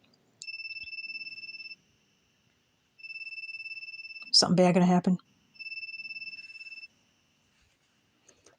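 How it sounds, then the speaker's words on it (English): A ringing phone in the visual novel My Sweet Stalker, three electronic ring tones spaced a second or so apart with silence between them, clear and close, while a voice speaks briefly between the second and third rings. "The phone rings for a while, but she finally answers."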